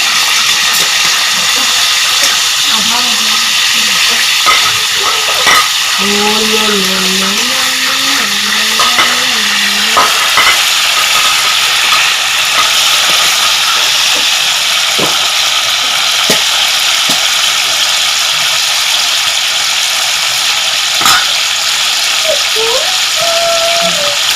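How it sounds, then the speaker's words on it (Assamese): Borali fish fries in a pan on a low flame, giving a continuous, even, close-up sizzle that holds for the whole stretch, with a voice talking briefly over it early on. "এই বৰালি মাছ ভাজি আছো"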